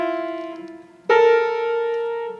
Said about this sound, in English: And semitones sound like this.